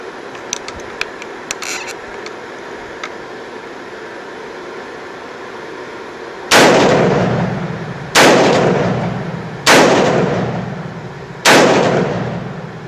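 Four loud, sharp rifle shots from a muzzle-braked rifle, spaced about every one and a half seconds, each with a long outdoor decay, following several seconds of quiet background.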